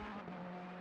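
Ferrari GT3 race car in a racing video game on the last turn of a qualifying lap at Watkins Glen, a steady engine drone held for under a second.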